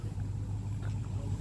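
A car exhaust rumbles at a car show, a low, steady idle drone that sits close and fairly quiet with a faint murmur of background noise and no clear speech.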